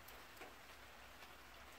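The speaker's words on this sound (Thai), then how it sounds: "เสียงฝน" Rain falls steadily in a short, faint stretch, an even hiss with scattered drop ticks and no talk.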